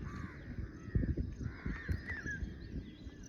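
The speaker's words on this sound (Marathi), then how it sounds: "कावळ्यांचं कर्कश काव काव" Several harsh crow caws ring out in a calm natural outdoor spot, a few rasping calls spread across the moment at moderate distance above a soft ambient bed.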